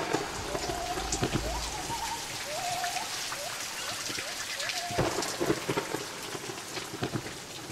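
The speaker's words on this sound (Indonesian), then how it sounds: "kita udah basah kuyup karena hujan mulai datang lagi, gerimis" Steady heavy rain pours during a thunderstorm, with low thunder rumbles rolling beneath the hiss and scattered drips, all fairly faint and continuous.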